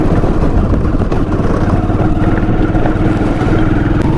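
Motorcycle engine running steadily and loud throughout, close by, on a ride through a jungle where langurs gather; a continuous droning rumble with no voices.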